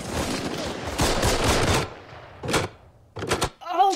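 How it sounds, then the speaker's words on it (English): A burst of war-film gunfire from Band of Brothers fades out, followed by a few sharp mechanical taps of a typewriter, with a brief voice-like sound at the end. "the transition of gunfire to the tapping of the typewriter"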